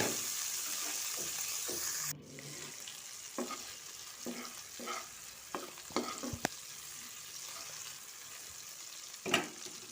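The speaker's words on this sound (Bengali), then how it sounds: "তারপরে দিয়ে দেব দুইটা কাঁচামরিচ আর পেঁয়াজগুলো ভেজে নেব" Onions and two green chilies frying in oil in a home kitchen, an even sizzle at first, then quieter crackling with scattered stirring clinks and scrapes of a utensil against the pan.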